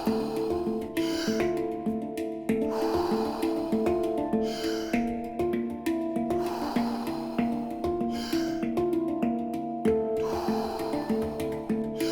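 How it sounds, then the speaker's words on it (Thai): Rhythmic deep breathing of a Wim Hof style exercise, repeated long inhales and exhales through the nose and mouth, close and steady over soft background music. "หายใจเข้า หายใจออก หายใจเข้า หายใจออก"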